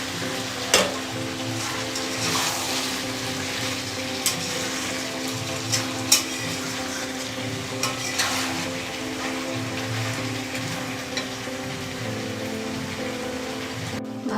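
Fenugreek mustard chicken masala being sautéed in a pan, a steady close sizzle with scattered spatters and occasional scraping stirs throughout, no voices.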